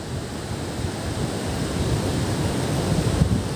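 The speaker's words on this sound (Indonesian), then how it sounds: "pantai yang ombaknya lumayan besar ya hari ini" Steady roar of large surf breaking along Panggul beach, a continuous loud wash of water with wind noise and no pauses.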